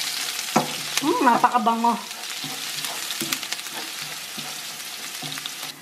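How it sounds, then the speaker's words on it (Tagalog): Chopped onion sizzles and crackles in a pan with browned garlic, a steady close frying hiss with stirring scrapes, while someone speaks briefly over it. "Pag-brown na ang inyong garlic, pwede na natin ilagay ang sibuyas."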